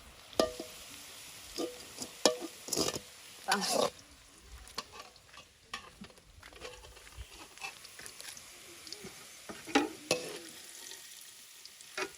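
Ingredients sautéing in a pan for a lentil curry cooked for about thirty people, with a low sizzle and irregular stirring scrapes and knocks, close but fairly quiet.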